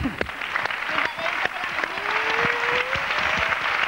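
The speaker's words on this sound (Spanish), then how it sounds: "un aplauso para los niños" Studio audience applauding children on a Spanish television show, steady clapping throughout under a voice talking over it.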